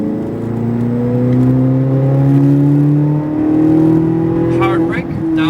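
A car engine revs steadily as the driver adds throttle, its rising drone loud and close, with a brief dip before climbing again.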